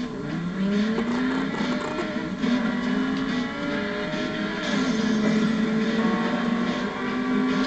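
A convertible four-wheel-drive car is driven, producing a steady engine drone that rises and falls slightly, loud and continuous for the whole stretch with road noise underneath.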